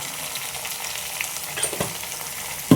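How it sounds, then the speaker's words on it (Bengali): Spices with Kashmiri chili powder and turmeric fry in oil for a fish curry, a close, steady sizzle with a couple of soft stirring scrapes near the end. "তারপর দেখো দিয়ে দিচ্ছি একটু রং হওয়ার জন্য কাশ্মীরি লঙ্কার গুঁড়ো"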